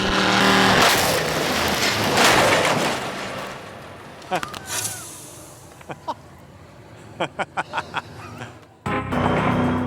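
A lemon car hurtles flat out down a test track after its tow cable uncouples: a loud, roaring engine and wind rush fade into a string of sharp knocks and bangs, ending in a sudden heavy crash.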